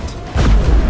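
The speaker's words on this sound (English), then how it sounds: "A magic explosion of some sort. So powerful that even the echo was dangerous" Magic explosion in Witcher 3: Wild Hunt: a loud, deep boom bursts out after a brief lull and rumbles on heavily to the end.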